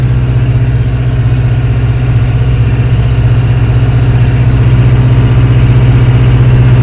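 A farm tractor's engine runs at a constant loud idle-like drone, a deep steady rumble heard up close from the cab with no voices.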